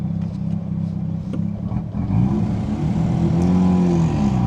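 A Mazda RX-7's rotary engine revs up on a real road, a steady close drone that swells louder about halfway through, with rising and falling rev tones over a rough low rumble.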